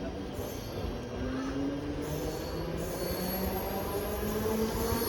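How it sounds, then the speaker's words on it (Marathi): A train rumbles into a Konkan station on a rainy day, wheels squealing in long, high metallic whines over a steady rolling roar. It is close and continuous. "आता आपली ट्रेन आले मित्रांनो"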